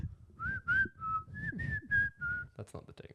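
A person whistles a melody from a Coldplay song, up close and alone, giving a short run of clear, sustained notes with brief gaps, before a few quick breathy attempts at the end.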